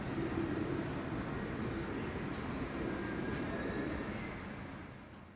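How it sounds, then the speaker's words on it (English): New York subway 6 train arriving on the local track, a low, fairly faint rumble that holds steady and then fades over a few seconds, with no talk. "here comes my 6 train"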